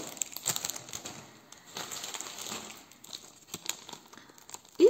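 A plastic bag with a heart print crinkles and rustles steadily as its contents are tipped out, close and fairly quiet, ending in a louder rustle.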